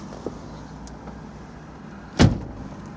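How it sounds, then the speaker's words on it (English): Door of a used Ford Focus closing: one solid, close thud stands out near the end over a quiet interior hum, with a small click earlier. "We just close the door now so you can see the mileage on the car."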